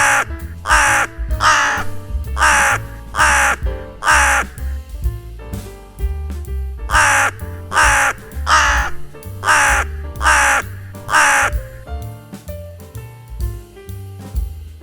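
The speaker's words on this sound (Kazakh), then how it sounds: "Қарға, ворон." A crow gives loud, harsh caws in steady repeated bursts, with a low droning backing sound running underneath throughout.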